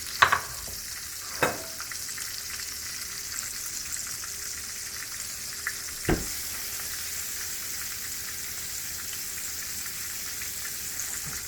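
Vegan mushroom "chicken" tenders fry in a pan with a quiet, even hiss of oil. A few sharp clicks and pops cut in near the start and around the middle.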